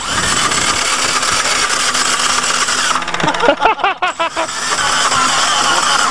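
Geo car engine with no compression being cranked: a steady loud hiss, then a couple of seconds of rapid, even whirring starter pulses that never catch, before the hiss returns.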